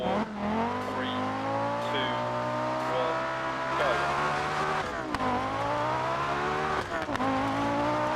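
Rally car engine in the Dirt Rally video game, a loud steady drone with sweeping pitch shifts as it revs and shifts, running continuously and close throughout, with occasional sharp pops and a brief dip near the middle.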